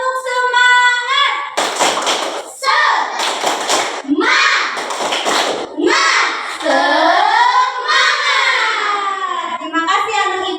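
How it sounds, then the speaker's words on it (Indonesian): A school class of children claps a rhythmic spirit clap together, bursts of patterned clapping mixed with children's chanting voices, loud and close in a classroom. "Coba ya, ayo, tepuk semangat."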